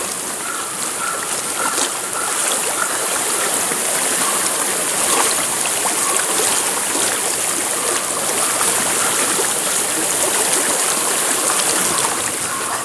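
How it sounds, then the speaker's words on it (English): Stream water flows and rushes in Hellblade: Senua's Sacrifice, a steady, dense, broadband wash that stays constant and fairly loud for the whole stretch, with no voices over it. "I hear water. Go to it."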